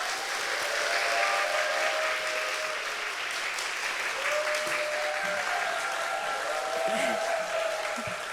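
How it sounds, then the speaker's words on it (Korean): Steady, dense applause from a large church crowd welcoming a missionary fills the whole stretch, continuous and even, with a faint murmur of voices beneath it. "여러분 큰 박수로 환영해 주시기 바랍니다."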